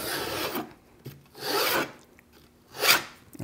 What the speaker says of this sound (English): I've cut right into that MDF.